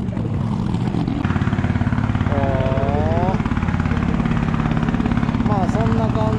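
The engine of a small one-person motorboat in Kampot, Cambodia runs close by throughout, a steady, droning, buzzing chug with a voice briefly heard over it.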